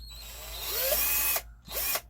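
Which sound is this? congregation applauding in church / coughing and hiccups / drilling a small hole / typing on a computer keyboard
drilling a small hole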